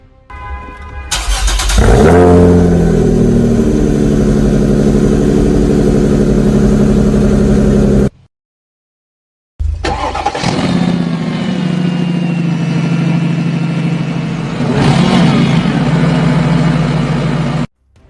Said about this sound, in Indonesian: nyalakan mesin terlebih dahulu dan biarkan idle selama beberapa menit